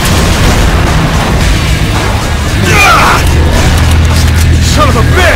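Heavy explosion booms from an RPG in Resident Evil 5 on a ship deck, loud and rumbling under continuous gunfire and game noise, with voices calling out.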